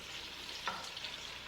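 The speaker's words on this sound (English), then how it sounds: "And while we're cooking that sausage" Smoked sausage fries in a pot for jambalaya, giving a faint, steady sizzle with a soft scrape or stir midway, and no talk.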